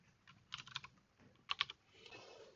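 Fingers type on a computer keyboard in two quick bursts of clacking keystrokes, close and fairly quiet, with no talking.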